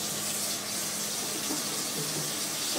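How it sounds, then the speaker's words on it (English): Tap water runs in a steady, close gush into a shaker, a continuous splashing rush with no break. "I'm going to add some water too."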